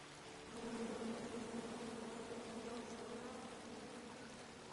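Buzzing bees in the King's Quest video game, a steady, fairly soft swarm drone that swells slightly and holds continuously, with no voices over it.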